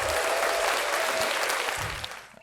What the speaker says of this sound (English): Can I get a round of applause for the Vince Staples show, please?